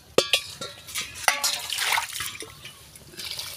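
Water splashes and trickles into a pot of spiced green-pea rice (vatana bhat) in a few uneven pours and drips, close and fairly quiet.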